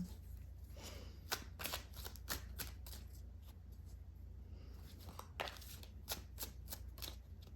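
Tarot cards shuffled in a steady run of crisp riffling bursts and flutters, close and fairly quiet, with no talking over them.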